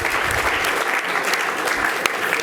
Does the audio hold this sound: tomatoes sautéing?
no